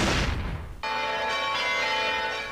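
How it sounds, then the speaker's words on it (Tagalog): A loud, close church bell strike rings out and sustains with shimmering overtones, following a burst of rumbling noise, as bells sound together at 24 churches in Aklan, Philippines, marking the first anniversary of Typhoon Yolanda. "Sabay-sabay na pinatunog ang kampana sa 24 na simbahan sa Aklan kahapon"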